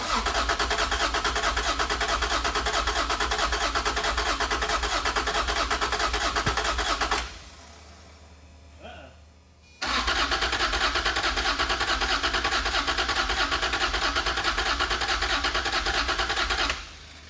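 A damaged NSX sports car engine runs loudly at a steady idle, cuts off briefly, then starts again and settles back into a continuous rumbling idle.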